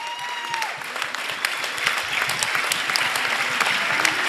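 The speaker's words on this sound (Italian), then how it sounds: "finisce qui la partita tra gli applausi delle due tifoserie" A crowd of rugby fans claps steadily and loudly at the end of a match, a dense, continuous wash of applause from many hands that holds at an even level throughout.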